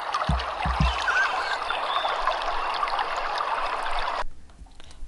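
Flowing water trickles steadily like a stream in an outdoor natural setting, with a few low thumps near the start, cutting off abruptly near the end.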